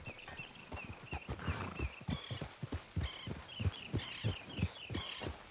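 Rhythmic hoofbeats of a ridden horse in the Red Dead Redemption 2 video game, a steady galloping clip-clop with soft thuds, accompanied by light in-game ambience.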